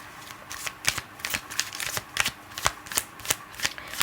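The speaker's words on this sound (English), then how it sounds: "Let's get one card or one or two cards from Whispers of Love." Whispers of Love oracle cards are shuffled by hand close up, a quiet run of quick papery riffles and flutters in irregular bursts, with no voices.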